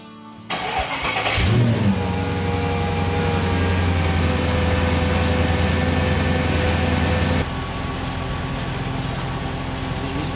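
A Mercedes CLK 500 engine, previously broken down and under repair, starts and then idles steadily and loudly at close range with a constant drone and no talk.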